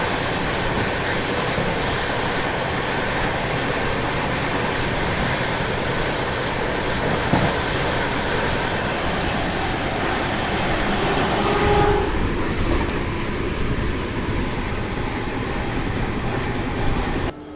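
A freight train rolls steadily past on the rails near Jhansi, India, heard from a passenger train running alongside, a loud continuous rumble with rhythmic clatter of wheels over track joints.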